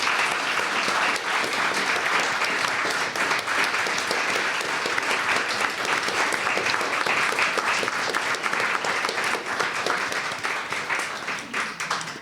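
A theater audience applauds the cast after a live show, sustained loud clapping from many hands that holds steady for the whole stretch and tails off slightly at the very end.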